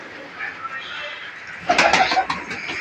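Pigeons kept by a fancier coo softly in the background while someone talks nearby, with a louder burst of sound partway through.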